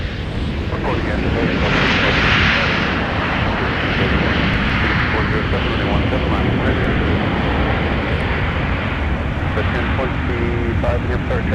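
An airliner touching down short on a snowy winter runway at Minneapolis–Saint Paul airport, with a loud sustained engine roar and a brief brighter swell early on, continuous and close, with no talk over it.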